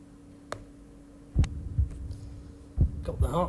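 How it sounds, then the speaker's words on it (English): Heartbeat sound effect in a golf video game on the Oakmont course: low thumping beats in pairs, spaced about a second and a half apart, over a faint hum. "Got the heartbeat."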